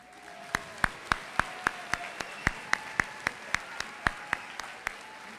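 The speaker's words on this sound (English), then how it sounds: "one huge round of applause to everybody who was recognized today" Applause for recognized seniors at a high school awards ceremony comes through as a steady, even rhythm of loud, distinct claps, evenly spaced like one nearby pair of hands beating time over a softer background.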